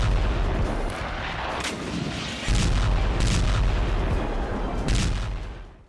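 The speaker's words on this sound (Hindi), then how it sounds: "यूक्रेन का MLRS से रॉकेट हमला।" A Ukrainian MLRS rocket attack strikes a Russian military post: heavy rumbling booms and cracking blasts roll on one after another, loud and continuous with a few sharper surges.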